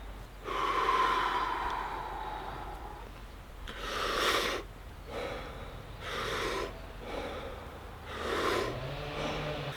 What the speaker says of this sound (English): But as of now, I'm going to breathe through my mouth.